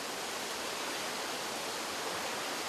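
Spring water pouring and splashing in the Chechen mountains as it is scooped with a rolled burdock leaf, a steady broadband rush of running water with no talking.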